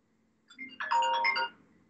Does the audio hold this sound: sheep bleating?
no